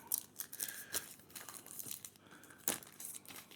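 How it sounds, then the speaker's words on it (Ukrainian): A small plastic bag holding silicone ear tips for hybrid earphones is eased open with close, quiet crinkling and rustling in short irregular bursts, with no voices. "Я не люблю рвати пакетики, тому треба його обережно розкрити."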